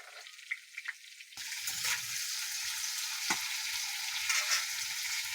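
Potatoes frying in a pan with a little salt, a steady hissing sizzle that starts abruptly after a quieter moment with a few light taps, then continues evenly up close.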